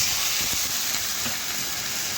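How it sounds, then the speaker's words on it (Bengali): Water poured into spice paste frying in a pan for a Bengali chicken curry with potato and green banana gives a steady, broadband sizzle that holds evenly for a couple of seconds with no talk. "ওই মশলার বাটিটা ধুয়ে কিন্তু একটু জল দিয়ে দিচ্ছি।"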